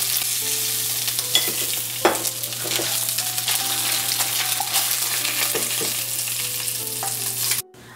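Hilsa fish head frying in oil in a pan while it is stirred and broken into pieces: constant loud sizzle with scattered spatula scrapes and knocks, cut off sharply at the end.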